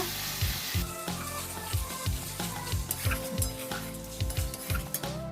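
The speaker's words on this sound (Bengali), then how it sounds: "এবার ভালো করে কষিয়ে নেব" Turmeric and chilli powder frying in oil over low flame, with steady close sizzling and a spoon repeatedly scraping and clinking against the pan in an uneven stirring rhythm.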